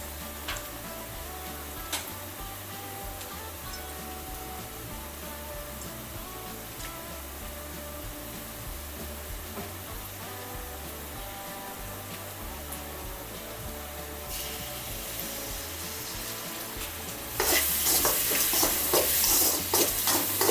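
Ingredients for idiyappam sautéing in a pan with salt and lemon: a steady, soft sizzle with occasional scraping stirs, growing louder and brighter toward the end.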